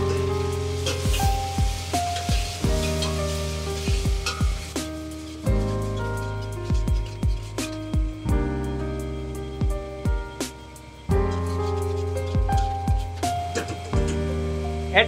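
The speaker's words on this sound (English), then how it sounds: "continually stir fry." Tomato cubes stir-fried for a dhal curry, a close, continuous crackling sizzle with scattered pops over a steady hum, and stirring scrapes breaking through at intervals.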